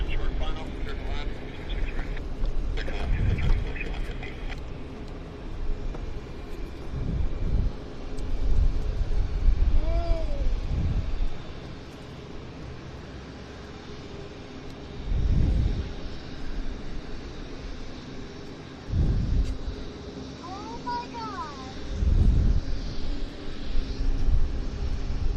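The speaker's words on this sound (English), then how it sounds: "This is a monstrous bizjet." A large Flexjet business jet rolls at Vancouver Airport, its engine rumble rising and falling in the distance, with a steady drone and several low thumping swells, while someone talks over it throughout.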